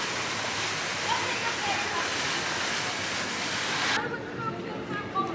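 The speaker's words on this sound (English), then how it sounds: "Fountains, always love a fountain." Water fountains at a theme park entrance splash and rush in a steady, loud wash that drops away abruptly near the end, with people talking faintly beneath.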